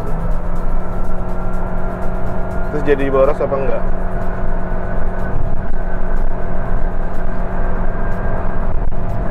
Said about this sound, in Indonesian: Kita mau coba seberapa kenceng sih mobil